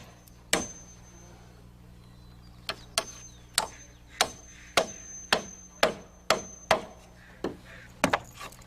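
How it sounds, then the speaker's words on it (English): Sharp hammer blows drive nails to toenail a wooden block to a rafter, about a dozen crisp strikes in uneven groups, close and distinct against a quiet background. "toenail into the plate, nail off the block, and nail the lap."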